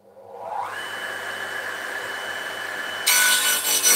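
A saw cuts through wood for a French shutter in a steady, continuous rasp that builds up quickly and grows louder and harsher toward the end, close by with no talk.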